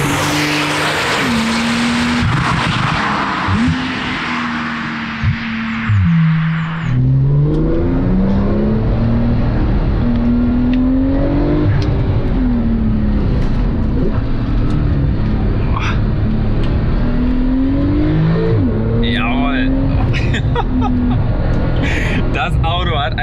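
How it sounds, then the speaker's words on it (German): A Porsche 991.2 Turbo under full throttle, engine note rising and falling through repeated gear changes in a loud, close, sustained run, with an excited voice talking over it throughout. "mit diesem Auto kann man hier tatsächlich Vollgas fahren."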